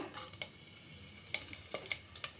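Whole spices, shahi jeera, cloves, cardamom and bay leaf, fry in hot oil with faint sizzling and a few soft clinks and stirring taps from a utensil against the pan, quiet and close.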